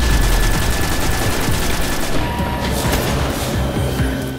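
Rapid, loud bursts of automatic gunfire in the video game Destiny crackle continuously in a dense, rattling stream with booming impacts, and no voice is heard over them.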